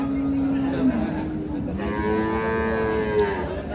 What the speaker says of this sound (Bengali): এটা এটা এটা বকনা বাচ্চা।